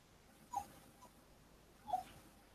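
A dog whimpers for attention, giving two short, thin whines a second or so apart, quiet against a faint background.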